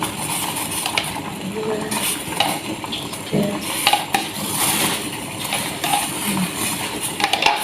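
A spoon scrapes and stirs around a pot of herbal mixture with tamarind, with soft clinks and a steady bubbling hiss underneath throughout.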